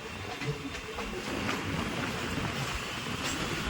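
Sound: Kolkata circular railway train slowing on a bridge

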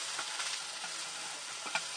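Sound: fried eggs and sausage frying in a pan

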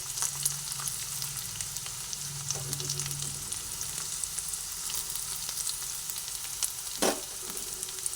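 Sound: boiled potato frying with onion and ginger

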